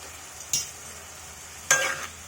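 Chopped onions with a tablespoon of salt are stirred in a frying pan for potato tomato curry, a soft steady sizzle broken by three sharp spoon scrapes and clinks against the pan.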